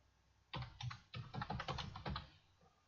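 Quick keystrokes tap on a computer keyboard as a folder name is entered, a close, soft burst of clicks lasting about two seconds in a quiet room.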